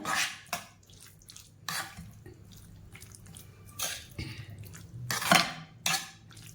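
Chicken being mixed with mayonnaise and chilli sauce in a bowl for a sandwich, heard as scattered close clinks and scrapes of a spoon against the dish with short pauses between strokes.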